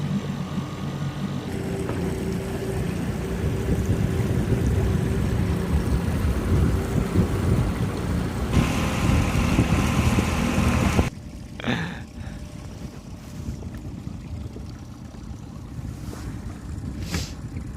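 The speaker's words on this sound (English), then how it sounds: "got our outboard motor running and warming up, ready to take us ashore" A steady low outboard motor drone from a small dinghy runs continuously alongside wind buffeting and splashing water, loud and close, without let-up.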